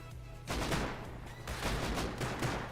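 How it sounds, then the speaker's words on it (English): Gunfire crackles during a large raid in the video game Rust, rapid overlapping shots arriving in two bursts after a quieter opening, moderately distant and without talk over it. "A lot of gunfire."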